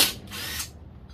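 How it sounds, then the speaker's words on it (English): A power tool with a 12 mm socket backs out an emergency brake bolt on a Honda Odyssey rear brake job, giving a short, close whirring burst followed by a quieter rattle. "I'm gonna grab a 12 millimeter socket to get the second emergency brake bolt out."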